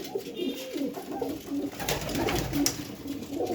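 Pigeons coo in soft, repeated throaty phrases at close range, a few overlapping calls rising and falling over a quiet background.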